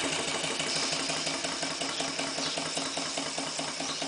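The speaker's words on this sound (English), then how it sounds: "The engine ticking over quite nicely, very slowly." A small Clarkson inverted model steam engine runs slowly on steam from a PMR boiler, giving a steady, fairly quiet rhythmic chuffing and ticking with a lumpy beat, with no talking.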